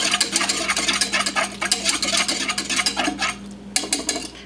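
Nutmeg stirred into a cream sauce in a pot, heard as a steady run of scraping, clinking stir strokes against the pan with a low hum underneath and a short pause near the end.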